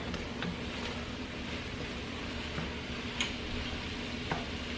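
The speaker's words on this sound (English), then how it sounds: "you give that a stir. Get those vegetables all coated." Vegetables stirred in a pot for braised short ribs, a steady soft scraping and sizzle with a few light clinks of the spoon against the pot, close and continuous with no talk.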